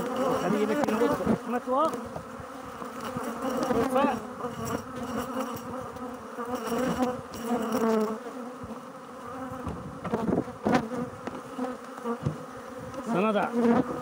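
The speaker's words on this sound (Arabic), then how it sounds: "وضعنا خلية فارغة، بدأت تأخذ النحل مباشرة." Honey bees buzzing in a dense, wavering swarm around a beehive as an empty hive is set in place, loud and continuous close by, with someone speaking briefly over the hum.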